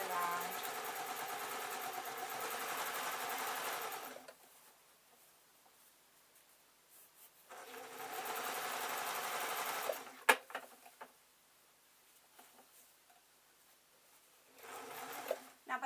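A sewing machine stitches a straight line on a fabric desk tidy, running in steady bursts of about four seconds separated by pauses with small clicks and handling sounds.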